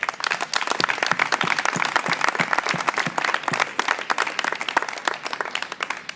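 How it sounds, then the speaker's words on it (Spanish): An audience at a public talk on sovereignty and democracy in Albolote applauds, with many distinct hand claps forming a lively, uneven patter that goes on throughout and thins slightly toward the end. "os voy a pedir un aplauso para ellos y para ellos"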